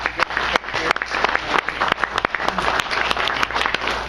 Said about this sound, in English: how about a big round of applause to all these guys?